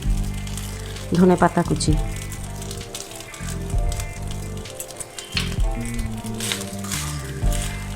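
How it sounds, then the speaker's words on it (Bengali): Cooked rice stirred in hot ghee with tempering spices for restaurant-style cumin jeera rice, giving a close, continuous sizzle and scraping stir while someone talks over it. "এবার খুব ভালোভাবে ঘিয়ের সাথে ফোড়নের সাথে ভাতটা আমি নাড়াচাড়া করে নিই"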